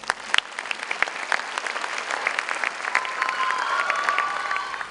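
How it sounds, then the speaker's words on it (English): An audience applauds warmly at a school annual day event, steady sustained clapping from a large crowd filling the room, with a faint high whistle-like tone rising near the end. "I'm so glad that you're all applauding so warmly"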